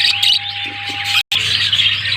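Budgies chirp and tweet inside a breeding cage, with bright, busy high-pitched chatter running continuously over a low steady hum, broken by a brief moment of silence.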